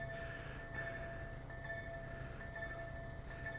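A slow train, a railbus-type unit, crawling along the Miłkowice - Żary line at a level crossing: a steady low rumble with faint tonal hums and squeals, continuous and fairly distant throughout.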